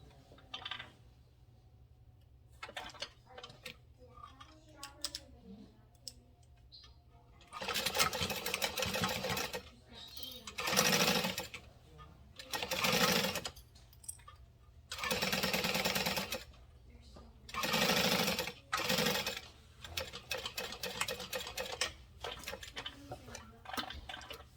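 A sewing machine runs in a string of separate bursts over fabric, close and steady while stitching a seam beside an earlier stitch line, with short pauses and faint handling between runs.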